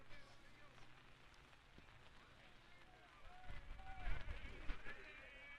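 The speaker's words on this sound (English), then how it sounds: "We are getting a healthy amount of rain here." Steady rain falls on an outdoor college baseball game between Saint Martin's and Northwest Nazarene, a soft broadband hiss that swells louder near the end, with faint voices underneath.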